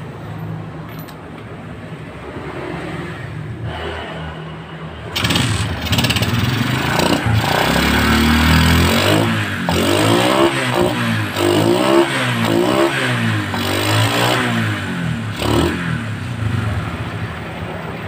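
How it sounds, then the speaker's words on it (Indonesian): Motorcycle engine after an ignition repair, cranking and catching, then running loud and close with repeated revs rising and falling over a steady rumble. "Sekarang kita akan tes motornya bisa hidup atau enggak."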